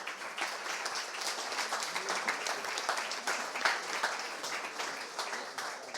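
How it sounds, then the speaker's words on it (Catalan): Audience at an arts and science presentation applauding a marine sciences researcher, a moderate crowd clapping with distinct individual hand claps audible in a steady, lively patter. "Aplaudiment per la Vanessa Balaguer."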